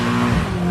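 A radio-controlled car fitted with a miniature 2JZ engine revs hard, a loud, close, buzzing engine note holding steady with a brief pitch wobble midway.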